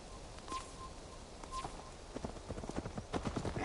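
Horse hooves clip-clop in Assassin's Creed Valhalla, a steady run of hoof strikes that grows louder and quicker toward the end over a faint ambient bed, with a couple of brief tonal chimes early on.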